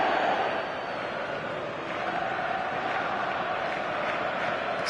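A football stadium crowd reacts with a broad, steady roar of many voices, moderately loud and fairly even, with a slight dip early before it holds steady.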